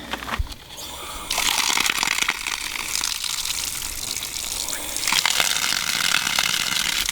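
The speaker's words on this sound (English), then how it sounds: "let me go turn on the water on and see everything's good" Water rushing through household plumbing after a whole-house filter change, a loud steady gush from a tap that starts after a few clicks and handling noises and keeps flowing, swelling slightly toward the end.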